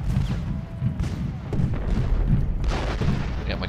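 Cannon fire and battlefield booms from the Civil War strategy game Ultimate General Gettysburg, a continuous rumble of artillery thumps and distant gunfire mixed with game ambience, moderately loud throughout.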